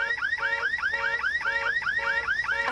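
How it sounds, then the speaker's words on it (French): A car alarm blares continuously with a rapidly repeating rising electronic whoop, loud and steady with no talk over it, set outside at night. "On a dû essayer de la lui voler, l'alarme s'est déclenchée."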